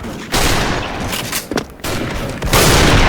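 Gunfire in the Special Force video game rings out in quick bursts of sharp shots, loud and dense, with brief pauses between the volleys.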